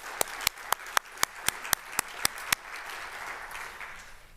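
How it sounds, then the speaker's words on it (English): A lecture audience at Iowa State University applauds a faculty member who taught there for 50 years. About ten sharp, evenly spaced claps ring out over a soft wash of clapping that fades. "Let's have a round of applause for a faculty member like that."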